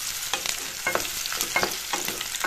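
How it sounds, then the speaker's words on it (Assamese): Onions being stirred and fried in a pan for a chicken and brinjal curry, with a spoon scraping in steady strokes about every half second over a soft, continuous sizzle. "এইখিনি এনেদৰে পিঁয়াজখিনি লৰাই দিছোঁ।"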